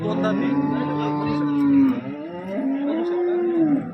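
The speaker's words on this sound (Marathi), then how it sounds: "गाई बघा राहुल भाऊच्या इथं।" A cow moos twice in long, drawn-out calls, fairly close, at a cattle market, with other farm noise and voices faintly in the background.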